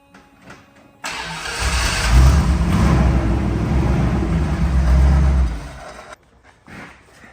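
A Jensen car fitted with a Rover engine starts after 25 years off the road, cranking and catching into a loud, steady running roar close by that holds for about five seconds before cutting off.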